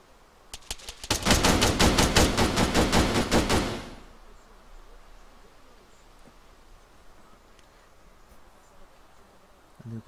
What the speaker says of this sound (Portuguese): Olha o tiro, passou de onde esse tiro?